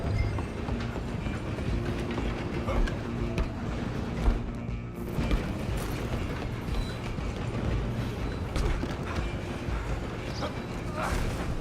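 A train rumbles along the tracks in Red Dead Redemption 2, a steady dense clatter and roar that runs throughout, with faint mechanical knocks mixed in.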